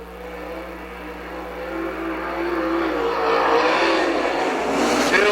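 POWRi WAR sprint cars race on the dirt speedway at Osky, a loud engine roar that builds and swells as the pack passes, with a steady whirring drone beneath.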